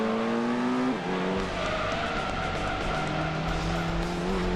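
A V8 car in a retro racing video game revs and whines through a corner, its engine tone climbing and dipping over a steady roar of tire noise, loud and continuous.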